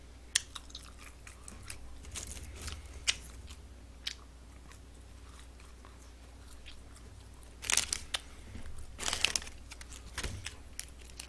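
Someone eats Yonggari chicken from a McDonald's Big Mac Trio pack, with close, crisp crunching bites and chewing in uneven bursts, and a few louder crackling rustles of a wrapper.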